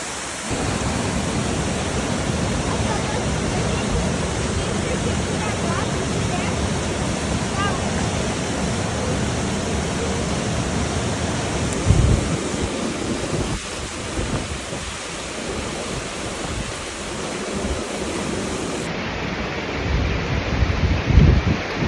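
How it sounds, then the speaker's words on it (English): Roaring River Falls in Kings Canyon National Park, an ice-cold waterfall, pours in a loud, steady broadband roar that holds nearly unchanged from start to finish, with faint voices briefly surfacing near the end. "we're doing the Roaring River Falls Kings Canyon National Park."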